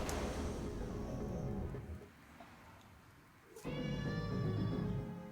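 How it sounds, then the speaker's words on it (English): A nearby cat meows twice, a drawn-out tonal call and then a louder, wavering one after a short quiet gap, over faint room noise with no talk. "Did you guys hear Pickles the cat?"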